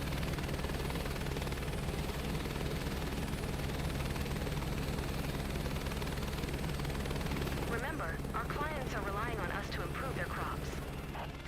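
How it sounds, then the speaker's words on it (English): News helicopter in a flight video game, its rotor and engine drone loud and steady throughout, with speech-like sounds over the final few seconds. "Your job with flying a news chopper into storms."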